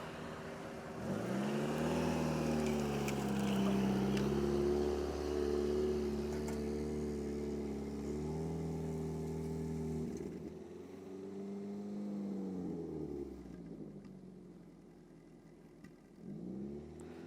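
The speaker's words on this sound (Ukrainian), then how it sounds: "Зараз плавно трогаємося, плавненько під натяжечку їдемо по пісочку" BMW car pulling away gently and driving across sand, engine note rising and easing in smooth revving sweeps, then dropping to a quieter hum near the end, with no speech.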